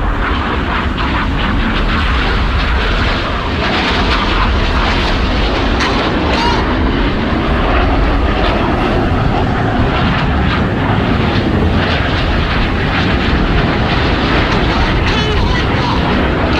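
Red Arrows jets flying past during an air display at the 2022 Bournemouth Air Festival, making a loud continuous roar of jet engines that stays intense for the whole stretch.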